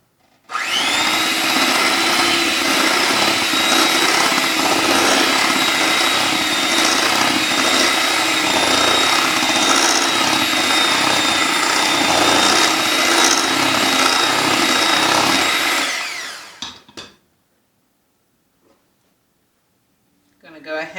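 An electric mixer beats chocolate cake batter in a bowl, its motor whirring loud and steady for about fifteen seconds before winding down and stopping, leaving near silence with a faint knock at the end.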